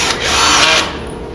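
A power drill whines steadily while driving screws into a wooden bed frame, a single loud, close burst of motor noise lasting about a second before easing off.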